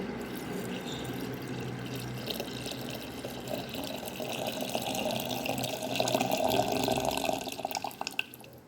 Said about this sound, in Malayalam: ഒരു ലിറ്റർ വെള്ളം തിളപ്പിച്ച് ആറിയതിന് ശേഷം ഇതിലേക്ക് ഒഴിച്ചു കൊടുക്കുന്നുണ്ട്